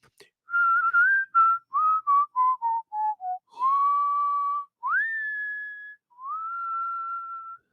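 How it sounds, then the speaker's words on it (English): A person whistles a melody meant to sound like a little bird: a run of short chirpy notes, then longer held and sliding tones, clear and close with nothing else heard. "I could whistle like a little bird"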